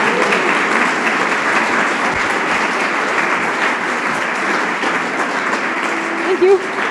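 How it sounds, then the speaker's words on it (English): Audience applause after a technical talk on library operating systems, steady dense clapping filling the room for several seconds, fairly loud, with a brief voice near the end. "Big round of applause for Mindy."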